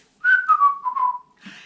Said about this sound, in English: Here goes the zookeeper whistling while he works.